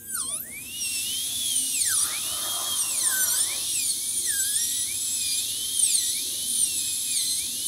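A high-speed dental drill reduces a tooth during a zirconia crown prep, whining continuously and close, its pitch dipping and rising as it meets the tooth, steady with no talk.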